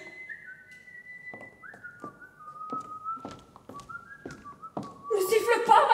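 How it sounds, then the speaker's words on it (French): A person whistles a sustained, wavering melody in several long phrases. Low voices and taps sound faintly underneath, and a burst of louder noise comes in at the end. "Ne siffle pas"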